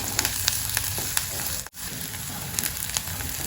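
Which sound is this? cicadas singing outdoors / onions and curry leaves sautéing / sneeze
onions and curry leaves sautéing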